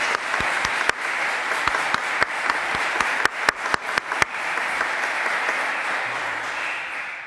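An audience at a lawyers' swearing-in ceremony before the Supreme Court breaks into sustained applause, a dense wash of many hands filling a large hall, with a few sharper nearby claps standing out.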